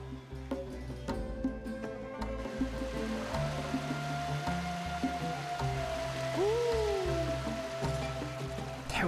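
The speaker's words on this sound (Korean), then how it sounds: "태화강의 발원지에서 흘러내려온 구슬처럼 맑은 개울." A clear stream flows down from the source of the Taehwa River in the Yeongnam Alps mountains, giving a steady, gentle water rush that continues through the whole clip at moderate level, with no talking.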